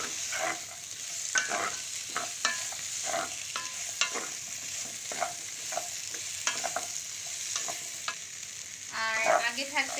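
Chicken pieces sizzle steadily in a hot pan with bell pepper and carrot, a utensil scraping and stirring in irregular clinks over the continuous frying hiss, close and moderately loud, with no talking.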